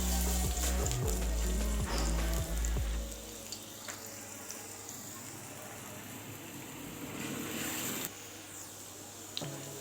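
Chopped garlic sizzles in cooking oil in a pan, a steady hissing fry that starts loud under clattering handling noise, then settles into a softer, even crackle.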